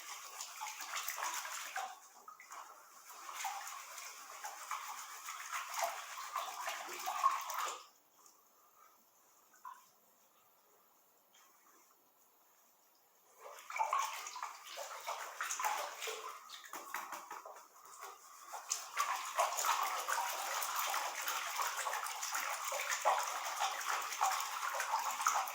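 Crushed silver ore is slowly panned in water, giving soft sloshing and swirling water with gritty washing, pausing into near silence midway before resuming steadily, close and fairly quiet.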